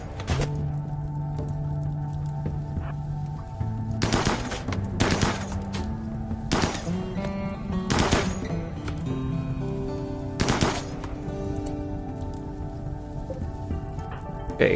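Gunfire from the colony-survival video game Rimworld, set in arid shrubland: several sharp, loud shots land a second or two apart, sometimes in quick clusters, over a steady bed of background game ambience, with no talking.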